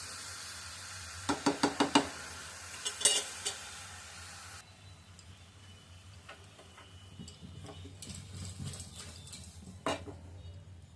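A spoon scrapes and knocks against a pot on a stove in a handful of sharp taps, followed by a softer stretch of faint stirring and light sizzling, with no one talking.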